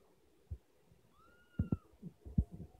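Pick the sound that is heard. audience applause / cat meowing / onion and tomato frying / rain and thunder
cat meowing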